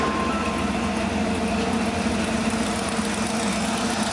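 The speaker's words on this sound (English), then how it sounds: "Engine is a 460 big block motor, very powerful, newer engine" A restored 1960 Ford F-100 pickup with a newer 460 cubic-inch big block V8 idles steadily and close by, a loud, even rumble with no talking over it.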